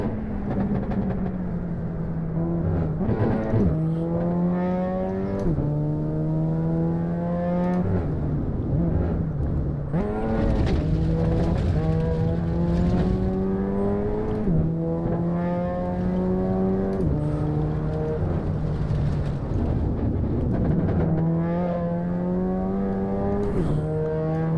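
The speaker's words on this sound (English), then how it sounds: "I think this is the wastegate, right? Turbo wastegate?" A turbocharged car driven in Assetto Corsa, engine droning steadily and repeatedly rising in pitch through the gears, each upshift marked by a brief drop and a faint release sound, with no talking.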